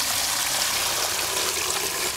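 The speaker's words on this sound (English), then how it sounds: "We'll dump the water in the fryer until the water level covers the turkey." Water pours steadily into a turkey fryer pot in a continuous, even rushing stream, heard alone and fairly soft.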